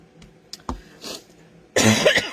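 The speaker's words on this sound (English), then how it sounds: "I'm going to give myself a coughing fit now." A few small throat sounds lead into a louder burst of harsh coughing near the end, close and without talk.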